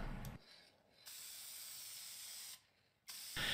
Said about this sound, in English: I'm going to let Sai take over here and apply a lacquer finish to the push block.